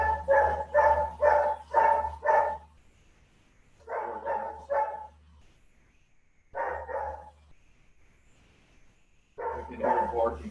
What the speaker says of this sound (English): I can hear barking. That's just our alarm system going off.